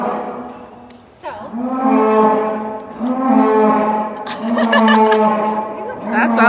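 Dairy cows moo repeatedly in their sleeping quarters, several long, loud calls overlapping one another, with a few people talking in the background.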